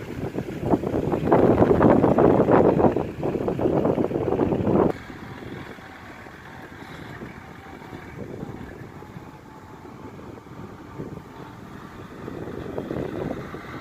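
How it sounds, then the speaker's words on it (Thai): Strong wind blows across an open rice field straight into the microphone, a loud rumbling buffet for the first five seconds that drops to a softer steady rush with occasional gusts. "เสียงลมอาจจะแรงนะครับเพราะว่าอยู่ทุ่งนาครับ"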